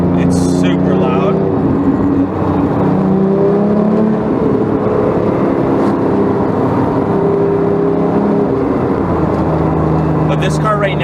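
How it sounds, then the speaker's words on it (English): A loud 2011 Porsche GT3 RS with a Sharkworks track exhaust drones and revs nearby, its deep engine tones swelling and holding steady for the whole stretch. "My car does have the Sharkworks track exhaust on it right now, so it's super loud."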